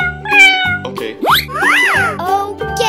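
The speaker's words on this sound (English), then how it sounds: "Cat." A cat meows several times in quick succession, some calls rising and falling sharply in pitch, loud and close with short gaps between them and no voices.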